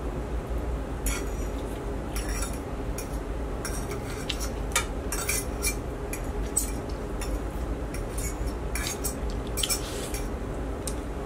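Pasta being stirred and tossed with basil and other flavors in a dish: soft, close clinks and scrapes of utensils against the bowl, scattered and irregular over a steady low background hum, with no voices.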